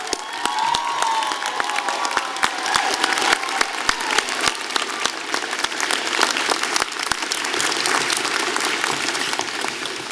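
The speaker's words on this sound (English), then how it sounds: "And how about a big round of applause for the faculty on stage for all their support?" A convocation audience claps loudly and steadily for the faculty on stage, dense applause filling a large hall with faint cheers mixed in, and no talk over it.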